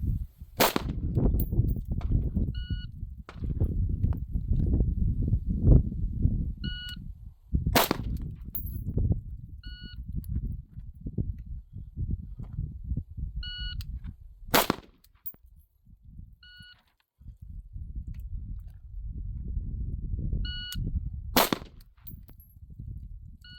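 Patrol rifle shots during a timed chest-target drill at a shooting range, with single sharp cracks spaced several seconds apart and low rumbling noise between them.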